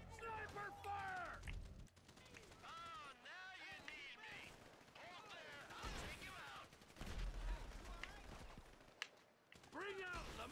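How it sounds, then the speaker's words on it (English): Gunfire crackles through a Grand Theft Auto V shootout, sharp shots scattered among loud shouting voices and busy game noise across the whole stretch. "Sniper fire!"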